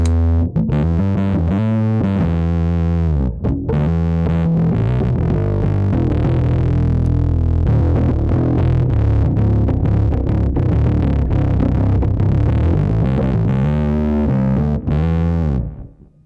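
Electric guitar played through a Vangoa PD-XL pedalboard with the preamp engaged and no compressor, producing a thick, slightly distorted chorused tone in strummed chords and single notes, loud and continuous.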